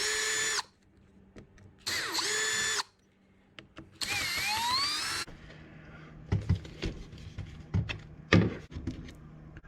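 Power drill backing out three screws from the rear end of a Traxxas 4-Tec 2.0 RC car chassis, with three loud whirring bursts spaced about a second apart, followed by scattered plastic clunks and handling noises.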